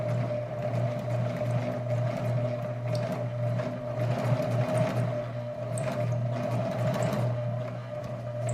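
A home sewing machine stitching slowly around a curve on paper, a steady close mechanical hum with a soft rhythmic needle ticking running without pause throughout.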